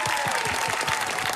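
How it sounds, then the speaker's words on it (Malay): An audience claps at a televised music show in Singapore. The applause is dense and steady and fills the whole moment. "Sekali lagi tepuk tangan"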